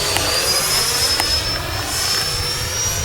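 An FMS Rafale 64mm EDF RC jet flies past with a steady, loud whooshing ducted-fan roar and a thin high whine that slowly shifts in pitch, with no voices.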